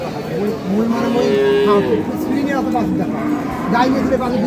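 Sahiwal bull calves at a village cattle market moo in long, loud, drawn-out calls close by, with people talking in the background.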